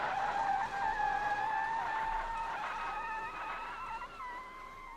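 Sustained tire squeal from a car skidding down a slope in the video game BeamNG.drive, a high wavering screech that holds steady and slowly fades, loud and close.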